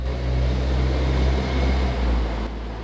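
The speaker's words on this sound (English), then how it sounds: "Quite frankly, for an aftermarket muffler, it's kind of loud, but it sounds fairly nice" Low, steady engine drone of a BMW Z3 roadster fitted with an aftermarket muffler, heard from inside while cruising slowly in a parking garage, a loud continuous rumble without talk.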